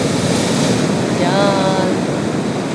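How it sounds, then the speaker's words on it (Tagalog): Strong ocean waves roll in at Santa Catalina beach, a loud, continuous roar of surf mixed with wind buffeting the microphone, with a faint voice faintly audible underneath. "malakas yung alon"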